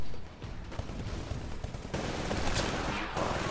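Titanfall gunfire crackling in a steady, rattling stream of shots at moderate distance, growing slightly denser toward the end, with no clear talk over it.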